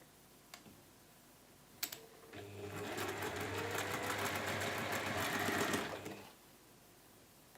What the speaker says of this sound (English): Sewing on the marked line.